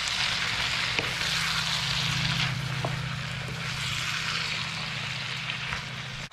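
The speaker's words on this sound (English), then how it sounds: "And we'll just keep frying them in that ghee." Steady sizzling of onions frying in ghee, close and continuous, with a few faint clinks of a utensil and no talk.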